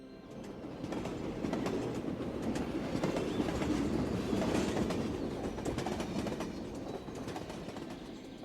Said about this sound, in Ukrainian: Сідаємо до потяга та повертаємося додому.